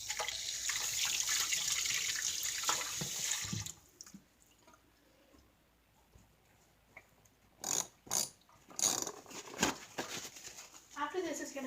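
Water from a tap runs steadily over hands being rinsed of cornstarch, then stops; afterwards come a few short splashes and drips. A person speaks nearby.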